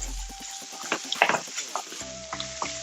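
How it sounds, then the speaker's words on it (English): Snow peas, sweet yellow and red peppers and red onion sauté in a pan for Singapore noodles, with a lively sizzle and a cluster of clinks and scrapes, and a steady tonal hum underneath. "Now I'm gonna add my veggies. So here I have snow peas, sweet yellow and red pepper, and red onion."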